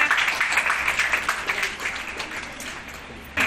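Loud applause from an audience at a ceremony honouring trained young women from Roshan Education in Niyamatpur, a dense steady patter of many hands clapping for about three seconds, then trailing off.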